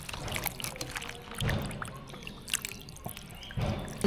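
Freshly washed roselle calyxes dripping water as they are lifted into a basket, with splashy pours and trickles coming in bursts, near and moderately loud, no talking.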